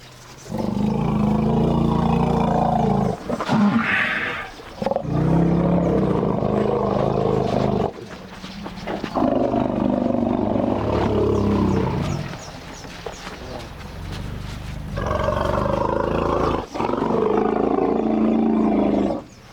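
Elephants in Tsavo, resident orphans returning from the bush, give deep, low-pitched greeting rumbles in several long, loud bursts separated by brief pauses.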